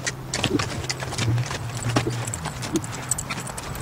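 A ridden horse trotting during schooling work, steady clip-clop of hooves in an even two-beat rhythm at moderate distance, with faint background noise.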